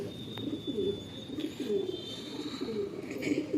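A low flyer pigeon coos in soft, repeated rolling throaty calls while being handled at close range in a loft, the rhythmic cooing steady against light background noise.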